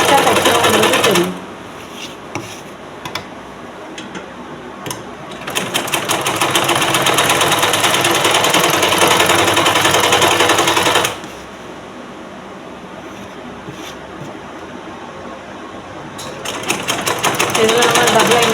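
A sewing machine stitches a blouse in two long loud runs of steady rapid whirring, broken by quieter pauses filled with small handling clicks, and a third run starts at the end.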